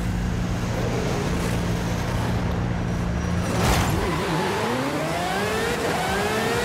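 A 1000HP Aston Martin Valkyrie AMR Pro in Forza Horizon 5 sits at a loud, steady engine drone before launching off the line, its revs sweeping upward in rising gear pulls near the end.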